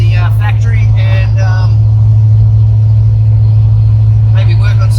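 Supercharged Holden VX Commodore engine running steadily as the car drives, a constant loud low rumble throughout with a voice talking over the first couple of seconds.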